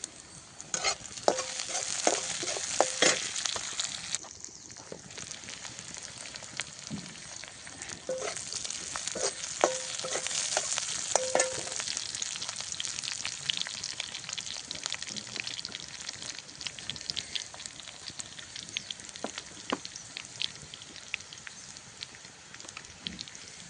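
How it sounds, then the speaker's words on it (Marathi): Chopped onion and garlic sautéing in a pan, a continuous fine crackling sizzle with scattered pops and occasional spoon scrapes, steady and fairly close throughout. "कांदा चांगला परततो आहे आपला"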